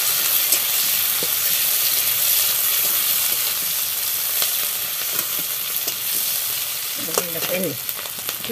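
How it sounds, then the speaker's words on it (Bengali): Onion and potatoes fry together in a pan, giving a continuous bright sizzle with occasional stirring scrapes, and a brief voice near the end. "তো আলুর ভিতরে সেই পেঁয়াজটা দিয়ে দিল"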